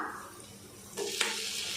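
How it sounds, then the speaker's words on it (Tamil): Onions and tomatoes sauté in a pan at a quiet, steady sizzle, with a brief stirring scrape about a second in that is followed by a brighter hiss. "தக்காளி சேர்த்துட்டு நல்லா வதக்கிடலாம்."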